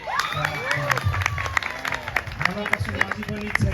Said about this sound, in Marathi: टाळ्या वाजवण्याची जोरदार टाळ्या झाल्या पाहिजे